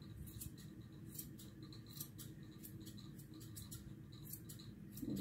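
Repeated crisp snips of scissors trimming the rosettes of a dog's continental clip, irregular and close, over a low steady background hum.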